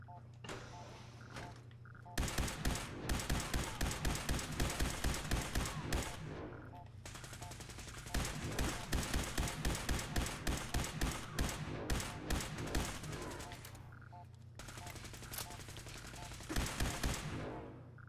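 Gunfire in Fallout 4, with rapid bursts of automatic shots repeating in long rhythmic volleys and short pauses between them, loud and close, broken by brief quieter gaps.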